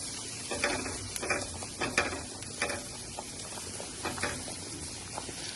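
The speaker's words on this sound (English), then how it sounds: "Now take this spatula and just kind of move it around" A spatula moves garlic around in a pan, making soft scraping strokes and light taps at an irregular pace over a faint, quiet sizzle, close to the ear.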